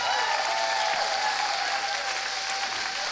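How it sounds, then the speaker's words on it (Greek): An audience at a talk breaks into sustained, steady applause, a full and even wash of clapping with no pauses throughout. "Ένα χειροκρότημα."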